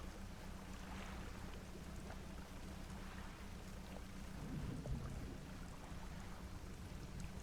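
Steady stormy rain on a surface in Resident Evil Village, a continuous wash of downpour with wind, no distinct thunder crack standing out, and no voices.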